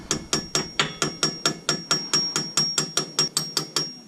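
A hammer taps a brake pin into place on a 2019 Mustang GT, giving about sixteen crisp, evenly spaced metallic strikes up close at a steady rhythm.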